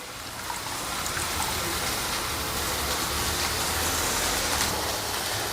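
Tamarind water streams steadily into a pan of okra and chickpea gojju, a loud, unbroken pouring rush that lasts the whole stretch with no talking.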